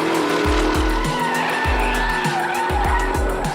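Porsche Cayenne Turbo GT cornering hard on a track, with a loud engine note and tire squeal, plus repeated sharp low thumps and bursts as it works through the turn.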